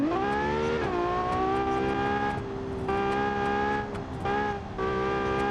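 A rear-engine SUV engine in the game Automation revs steadily with a bright harmonic whine, dipping and climbing as gears shift, loud and continuous with no talking.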